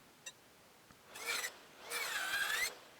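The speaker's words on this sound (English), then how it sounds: "I could pry out the rest with a pry bar, clean up with a chisel." A chisel scrapes across dense locust wood in two short, rasping strokes, the second one longer. The sound is close but faint, against a quiet background.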